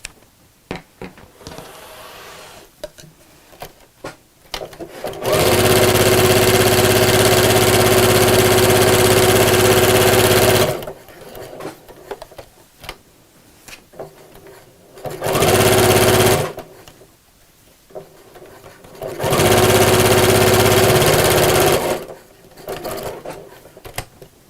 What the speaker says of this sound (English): So as this goes underneath the sewing machine, I'm just going to move all of the lining out of the way and just sew the pocket.